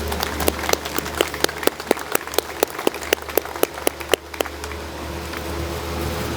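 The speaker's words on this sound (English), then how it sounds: "Please give yourselves a round of applause." Scattered outdoor applause at a dedication ceremony, a handful of distinct, sharp hand claps ringing out at a steady pace over a low background hum before fading away.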